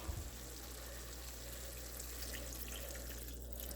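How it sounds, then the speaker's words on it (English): Steady hiss of water pouring into a pan, continuous and fairly quiet, with a faint clink at the start. "So I'm just going to add some of that water in."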